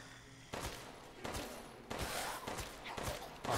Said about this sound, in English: Kind of firing wildly here.